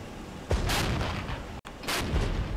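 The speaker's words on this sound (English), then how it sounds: "Gotta love that artillery support." Artillery fire in the video game Regiments: two heavy booming blasts about a second apart, each a loud broad roar that lingers and rumbles, with a brief dropout between them and no speech.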